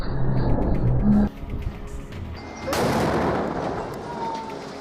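Explosives and a barrel bomb blow up tanks at intersections in a war zone, heard as deep booming blasts and rumbling roar that rise, drop off suddenly, then swell again into a broad, sustained rumble.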